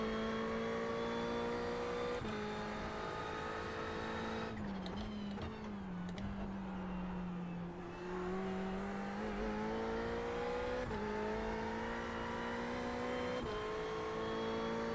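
A race car engine drones steadily in the iRacing simulator at Oulton Park, its pitch rising and falling through gear shifts and braking, with a brief rougher stretch of tire and road noise midway.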